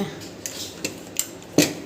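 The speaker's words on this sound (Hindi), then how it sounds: "ढक्कन को कर देते हैं बंद" Metal kitchen lid clinks onto a pressure cooker pot, several light taps and clatters ending in a louder clank, close by in a quiet home kitchen.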